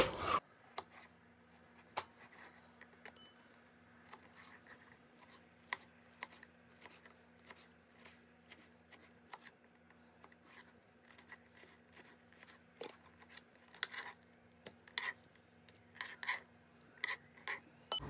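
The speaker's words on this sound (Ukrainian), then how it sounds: "Нарізаємо кубиками." A knife cuts peeled eggplant into cubes on a board, giving a quiet run of short, irregular chopping taps and scraping rubs that continue steadily with no talk.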